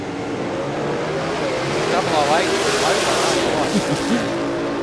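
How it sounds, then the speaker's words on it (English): A SuperComp drag race car spins its wheels at the start line at Willowbank Raceway, Queensland: a loud, steady roar of engine and tyre noise with squealing tones rising through it, with a commentator's voice over the top. "a lot of wheel spin from Raheem Tar on the start line"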